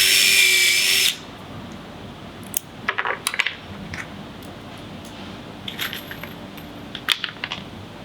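A power drill whirs loudly for about a second while driving a screw to anchor plywood on a children's hall tree build. Light metallic clinks and handling taps follow in the quiet afterward.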